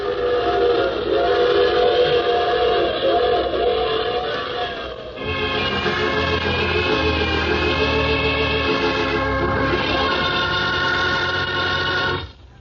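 A train sound effect in a radio drama rumbles steadily while a long whistle-like horn sounds throughout, loud and sustained, fading out abruptly at the end.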